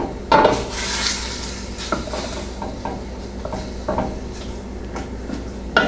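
Seasoned raw shrimp stirred around a pan with a utensil, giving sparse clinks and scrapes against the metal with a soft faint sizzle beneath, close up and without talk.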